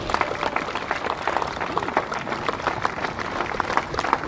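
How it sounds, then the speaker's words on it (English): Audience applause and clapping for the reigning champion at a wheelchair tennis masters singles final, a steady dense wash of hands lasting throughout without pause. "one last round of applause"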